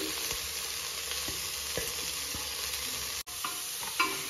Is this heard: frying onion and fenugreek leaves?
yes